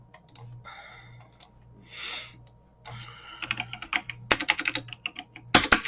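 Computer keyboard typing comes in uneven, halting bursts of clicks that grow busier and louder toward the end, close to the microphone, with a low hum underneath.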